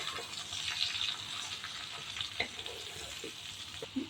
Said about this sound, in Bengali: এবার আমি কাঠি দিয়ে আবার ভালো করে মিশিয়ে নিচ্ছি